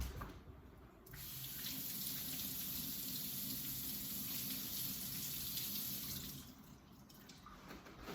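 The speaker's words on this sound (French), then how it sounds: "Fait que je mets de l'eau sur la tache directement" Running tap water poured directly onto a stain on clothing, a steady close rush that holds for several seconds before easing, with no talking.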